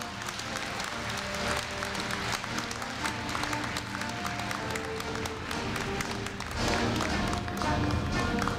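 A large audience applauds throughout at the 2015 Korea University freshman entrance ceremony during a scholarship award, with dense, continuous clapping that swells slightly near the end.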